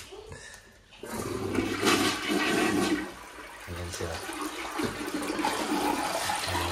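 A toilet flushes in a home bathroom, with water running loudly for several seconds, then a second surge of flowing water, while someone talks briefly over it.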